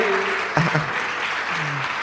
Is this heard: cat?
no